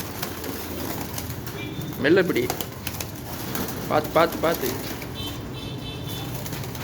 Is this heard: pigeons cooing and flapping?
yes